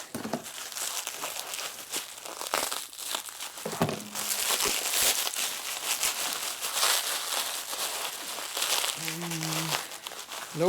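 Plastic packaging is crinkled and torn off a used motorcycle transmission trap door for a 1977–84 Sportster XLCH, with a continuous close crackle and rustle, occasional tearing pulls and brief voiced sounds breaking in.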